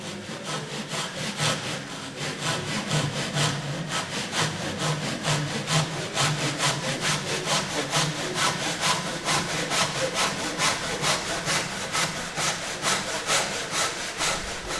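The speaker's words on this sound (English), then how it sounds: "I am using a tenon saw on this cut as it keeps a straight cut" A tenon saw cuts through a wooden skirting board held in a mitre box, giving steady, rhythmic back-and-forth strokes that rasp continuously and close up with no talking.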